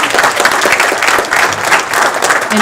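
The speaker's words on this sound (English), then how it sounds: "And a round of applause." Audience applause after an ocean studies seminar talk, dense steady clapping from a room of people, loud and continuous for a few seconds.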